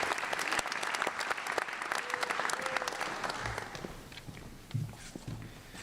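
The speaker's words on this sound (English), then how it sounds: "another round of applause for this year's Orland Park Rotary Scholarship winners" Audience applause for high school scholarship winners at a Rotary scholarship night, a dense burst of clapping that starts loud and gradually thins out, with a few scattered claps and thumps trailing at the end.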